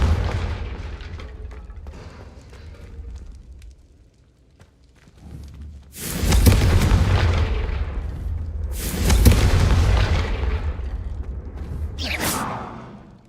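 Confringo blasting spells in Hogwarts Legacy go off as heavy booms, two big blasts with rumbling tails following a quieter stretch, then a sharper burst near the end.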